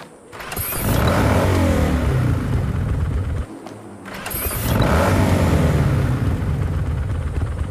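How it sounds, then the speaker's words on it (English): Jackie's tuned Arch motorcycle in Cyberpunk 2077 fires up twice, each time a mechanical clunk followed by a loud, close engine rev that climbs and then holds a steady rumble, with a short gap between the two runs. "even getting on the bike yields a slightly different sound"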